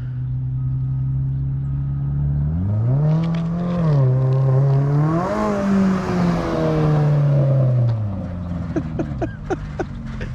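A 2022 Toyota GR86/Subaru BRZ with an aftermarket BRZ exhaust revs hard and close, its engine note climbing twice, holding high and then falling back, followed by a few sharp crackles as it settles.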